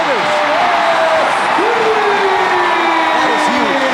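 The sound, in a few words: crowd cheering at basketball game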